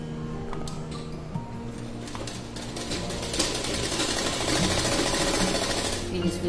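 A sewing machine runs stitching a trouser seam, a steady rapid mechanical whirr that grows slightly louder toward the end, with someone talking over it.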